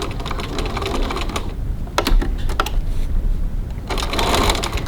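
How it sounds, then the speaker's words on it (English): A sewing machine stitches the bottom of a zipper pocket onto the body panel of a slip-and-zip wallet, an eighth of an inch from the edge, in steady close bursts of rapid stitching separated by brief pauses. "now I'm going to stitch the bottom of my zipper pocket in place to secure it to the body panel"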